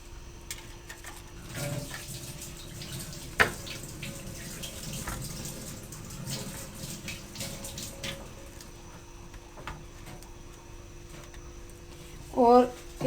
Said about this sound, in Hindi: पानी को उबलने दें।